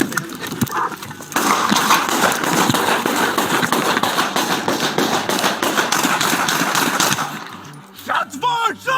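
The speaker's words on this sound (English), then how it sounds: "The officer ends up firing 24 shots." A police officer fires a rapid burst of gunshots, dense cracking that runs for several seconds, loud and sharp, with voices talking around it before and after.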